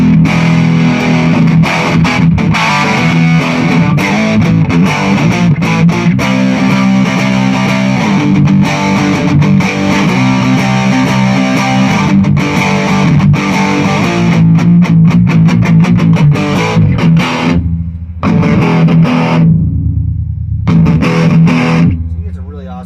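Heavily distorted, fuzzy electric guitar through a fuzz pedal on its germanium setting, playing continuously and loudly, with thick saturated chords and a brief dropout near the end.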